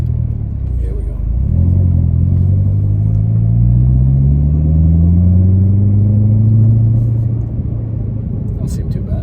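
A Corvette ZR1 with a supercharged LT5 engine pulls off a driveway, a low engine rumble swelling as it moves, the pitch rising and then easing back, heard from inside the car.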